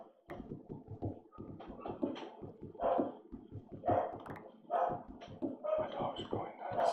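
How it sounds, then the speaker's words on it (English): Dogs barking excitedly in short repeated bursts, close and fairly loud, mixed with yips while a voice talks over them. "My dogs are going nuts."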